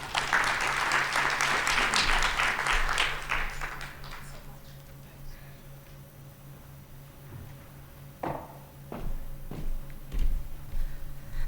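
Audience at the SANBio Annual Event 2019 gives a burst of applause that swells for several seconds and then thins out, leaving a quiet room with a few scattered taps and knocks.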